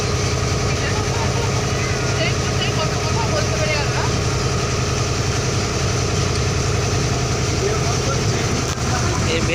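A river launch carrying a group of passengers on the Baitarani River, its engine running steadily with a continuous low drone throughout, while voices talk over it.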